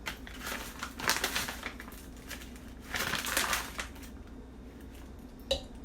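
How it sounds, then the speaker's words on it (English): Two tablespoons of exfoliating jojoba beads are spooned into a container for a homemade acne cleanser, giving two soft, gritty rustling pours followed by a few small clicks near the end, with nobody speaking. "I'm going to go ahead and put the jojoba beads here."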